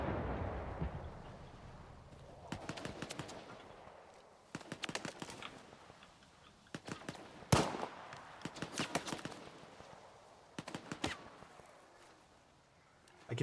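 Explosions and gunfire from a first-person shooter video game, with several bursts of rapid shots and one sharp blast standing out, spread across the stretch against a faint rumbling background.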